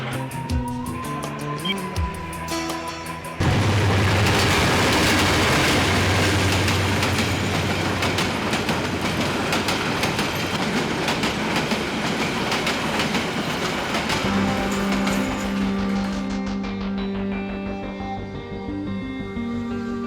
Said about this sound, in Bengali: মনে হয় ট্রেন আসতেছে, আওয়াজ পাচ্ছি যে।